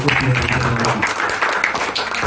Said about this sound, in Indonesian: Beri aplaus untuk PT Bandung